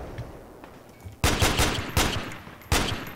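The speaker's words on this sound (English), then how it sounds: "I'm shooting at it" Gunfire in the tactical shooter game Project Reality: three loud, sharp bursts of shots roughly every three-quarters of a second, standing out over low background noise.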